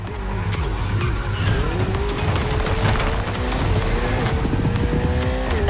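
A Ferrari 488 races in The Crew Motorfest. Its engine drones loud and continuous, with shifting pitch, under sustained tire squeal and skidding.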